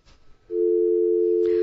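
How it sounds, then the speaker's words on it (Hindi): Steady telephone dial tone rings out loud and alone after a radio call-in listener's line drops, holding a continuous pure hum for over a second following a brief scrape of noise. "ओके, कॉल ड्रॉप हो गई रीवा जी"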